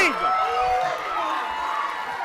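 An arena crowd at a wrestling rumble match in the WWE 2K19 game cheers in a steady roar behind an announcer's voice, with whistle-like tones rising and falling over the dense crowd wash.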